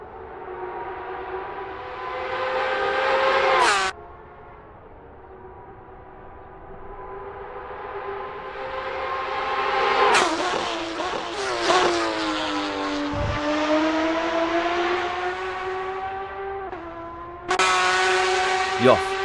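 A Porsche 911 RSR race car engine on its out lap at Monza in a racing video game, loud and close, rising and falling through gear changes with sharp shifts and revving swells, steady engine tone throughout.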